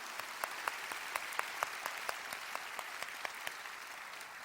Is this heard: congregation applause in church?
yes